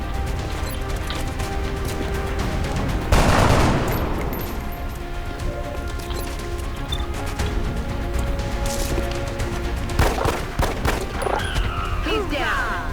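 Gunfire in the tactical strategy video game XCOM: a loud close burst of shots, then rapid crackling fire and sharp impacts that keep going under a dense layer of game noise, with brief speech mixed in.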